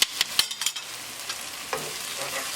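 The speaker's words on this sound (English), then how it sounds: "when we mash it, the tomatoes are nicely tender" Soft tomatoes being mashed in a pan for mushroom dal, a few quick scraping knocks of the masher at the start, then a quieter wet stirring sizzle trailing on.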